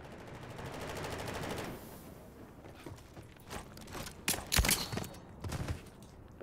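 Shotgun fire and clattering action in a Call of Duty match, a few sharp blasts and mechanical clacks over a busy game background.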